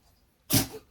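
A single close sneeze bursts out sharply and fades within half a second, with quiet room tone before it.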